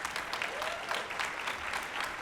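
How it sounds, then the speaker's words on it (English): Applause from the audience at a city awards ceremony, a brief even wash of clapping hands at moderate volume with no talk over it. "Please give them a round of applause."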